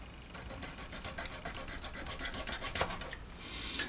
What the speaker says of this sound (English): These really fine razor saws are perfect for this. I just cut away from the part so that I don't damage it